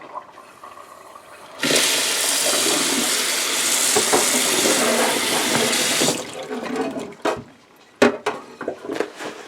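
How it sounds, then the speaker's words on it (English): Running water gushes loudly from a tap for several seconds while items are rinsed off during orchid potting in a glass vase, then cuts off, leaving scattered splashes, clinks and knocks. "So then I just rinse things off."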